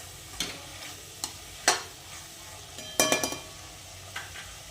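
A spatula stirs spices such as asafoetida and coriander-cumin in a sizzling pan for a tomato curry, giving several sharp scraping clinks over a soft, steady sizzle, close and alone.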